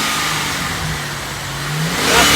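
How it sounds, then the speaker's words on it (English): A 2007 Holden Commodore Calais V8 engine revs up with a deep rumbling roar, rising in pitch and loudness toward the end, close and alone. "Panda, give it a little rev, Panda."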